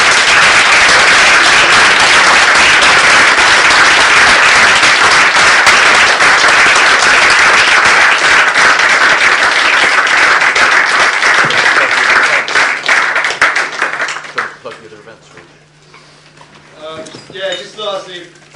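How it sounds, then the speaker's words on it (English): Long, loud applause from the audience closing a public discussion event, a dense sustained roar of clapping that thins out near the end as a speaker's voice comes through. "And just a very, very big round of applause."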